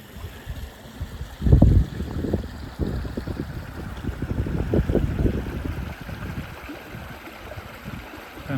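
A river near King's Tor flows with a low, continuous rushing, broken by a few nearby bumps and thuds.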